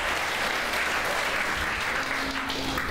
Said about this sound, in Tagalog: The best pong palakpak para kay Jesus.